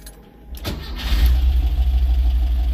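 A Porsche 914 cranks briefly and fires up, then settles into a loud, low, rhythmic idle close by, the engine's pulsing rumble steady to the end.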